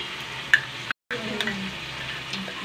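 Tomato paste, turmeric and chilli being sautéed in a pan, a close, steady sizzle with scraping stirs and a sharp clink of a utensil, briefly cut by a short silent gap.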